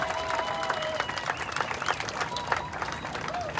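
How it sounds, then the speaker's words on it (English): Crowd applause and cheering for a motocross winner at the Walton Pro Motocross podium, a dense, steady wash of clapping with scattered whistles and shouts throughout. "Give him a big round of applause."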